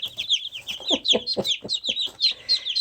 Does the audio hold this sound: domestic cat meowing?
no